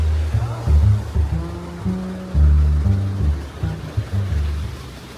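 A small hidden waterfall in Bali gives a steady, close wash of rushing water, with voices talking over it.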